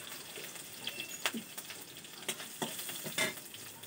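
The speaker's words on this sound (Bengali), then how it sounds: "এই তেলটা দিয়ে নিলাম, তেলটা গরম হয়ে গেছে। এবার লঙ্কা কুচি প্রথম দিলাম" Chopped chillies dropped into hot oil for a fish dish crackle quietly and unevenly, with a few sharp clinks of a spoon standing out over the faint sizzle.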